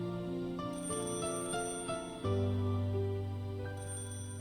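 A telephone ringing in the Higurashi visual novel, a steady electronic ringtone of repeating tones heard alone over a faint musical background.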